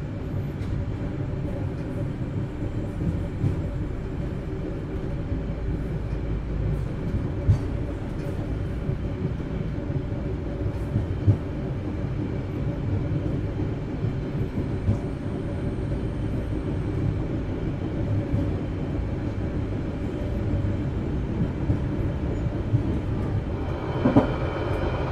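The KA Dharmawangsa Express, an executive-class night train from Surabaya to Jakarta, rumbles steadily from inside the carriage, a continuous low drone with faint rhythmic rattles and a brief squeal near the end.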